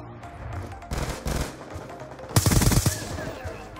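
SCAR-H rifle fire in Black Ops 2, two short bursts of rapid shots, the second louder and punchier, over a low background of game ambience.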